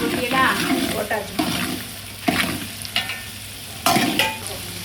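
Big and small onions sautéing in a pan with salt while being stirred, bursts of sizzle and scraping spoon strokes close by, with a voice speaking over parts of it.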